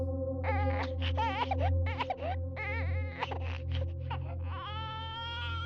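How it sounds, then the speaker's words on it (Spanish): A baby cries in wavering, repeated wails over a steady low hum, ending in a longer rising wail. "el llanto de un bebé"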